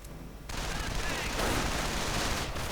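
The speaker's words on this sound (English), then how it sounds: "Another sniper shot." Sniper rifle fire in a World War II strategy video game, with a sharp burst opening into sustained, dense battle noise that continues loudly to the end, with faint voice underneath.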